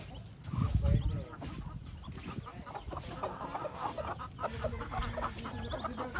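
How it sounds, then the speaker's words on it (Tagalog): Black chickens clucking close by, with short busy calls over outdoor background noise and a brief low thump near the start. "tingnan nyo ha, may manok na itim."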